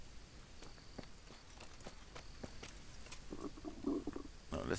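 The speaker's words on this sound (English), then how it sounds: "Is that my stomach doing that?" A character's stomach gurgles and rumbles in Kingdom Come Deliverance, a soft, low growl rising near the end, preceded by faint footsteps in quiet surroundings.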